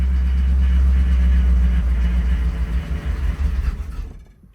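A 1984 Camaro Z28 engine idles up close with a loud, steady low rumble that holds for a few seconds before cutting off abruptly.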